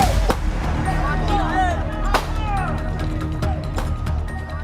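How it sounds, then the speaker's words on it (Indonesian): Police warning gunshots fired outside an empty house as a crowd surrounds a suspect: several sharp cracks ring out among the noisy shouting of a large crowd. "Polisi terpaksa mengeluarkan tembakan peringatan untuk mencegah aksi main hakim sendiri"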